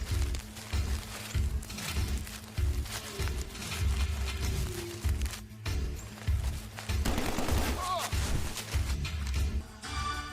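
Gunfire from a war movie scene, several rounds ringing out amid a loud, busy action soundtrack with rumbling low effects, faint voices mixed underneath.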